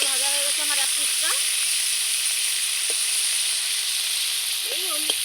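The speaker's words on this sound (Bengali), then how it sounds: "আমি ইলিশ মাছের মাথাটা খুব সুন্দর করে উল্টে দিচ্ছি। দেখুন কত সুন্দর ভাজা হয়ে গেছে আমার এক পিসটা।" A hilsa fish head sizzles in a pan, a steady hiss of frying oil running throughout, with a voice talking briefly at the start and again near the end.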